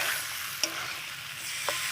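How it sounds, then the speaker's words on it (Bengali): Green peas, potatoes and spices stir-fried in a wok give off a steady low sizzle for about two seconds, with two brief sharp scrapes or clinks from stirring and no voices. "এবার কড়াইশুঁটি আর আলু আর মশলা একটু কষাতে থাকবো।"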